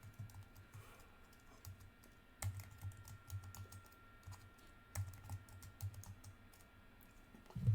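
A password is typed on a computer keyboard, a quiet, uneven run of soft key clicks with a few heavier taps, close and alone in a hushed room.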